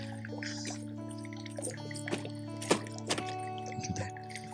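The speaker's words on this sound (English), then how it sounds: "As you can see, there's water dripping." Water drips from a partly frozen mountain stream on a high Himalayan trek, a few scattered drops and trickles close by, irregular, over a steady low hum.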